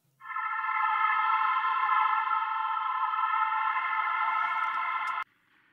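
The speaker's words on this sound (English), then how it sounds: "I'm going to use this Cousteau's organ from Analog Lab." A Cousteau's organ synth patch from Analog Lab holds a sustained, bright chord with effects for about five seconds, loud and steady, then cuts off abruptly, all instrumental with no voices, in a night-drive synthwave track.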